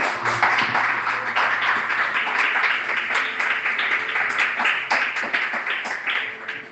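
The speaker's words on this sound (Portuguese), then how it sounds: "dá uma salva de palmas para Jesus nessa noite" A church congregation claps for Jesus at an evening worship service, dense continuous clapping over a low sustained organ or keyboard tone, fairly loud and even throughout.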